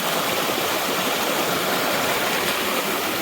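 Broad, constant rushing water from a river at a technical crossing near a lake along the Pacific Crest Trail between Tahoe and Truckee, loud and steady throughout with no voices.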